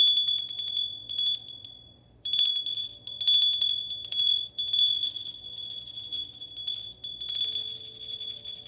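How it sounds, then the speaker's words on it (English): A small hummingbird bell rung to cleanse energy before a spirit card reading, giving bright, sustained metallic ringing in several clear strikes over about eight seconds, fairly close and alone with no talking. "My hummingbird bell to cleanse out our energy."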